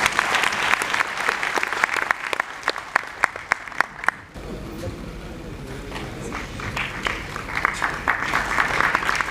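Audience clapping for a performer named Sanjay at a Marathi instrumental ensemble awards ceremony, 2016-2017: dense, close applause with sharp individual claps for about four seconds, then a softer, steady patter of hands that carries on to the end.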